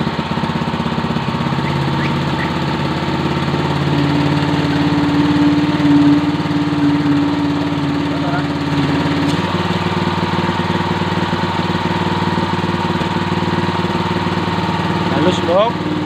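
A Yamamaxpro 3-inch water pump engine runs at a steady, buzzy chug, a small single-cylinder drone with a slight shift in tone partway through, while people talk nearby.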